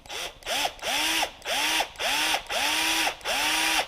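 A socket ratchet tightening a bolt during seal replacement on a John Deere 318 transmission, giving six close, loud bursts of rapid clicking in an even back-and-forth rhythm.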